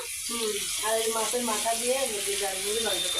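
Snake gourd (chichinga) frying in a pan in a home kitchen, giving a steady, even sizzling hiss throughout while a voice hums or speaks over it.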